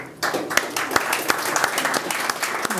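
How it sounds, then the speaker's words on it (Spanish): An audience at an economics debate in Chile claps warmly for a guest, with distinct individual claps standing out from a steady wash of applause throughout. "quiero darle un gran aplauso a él"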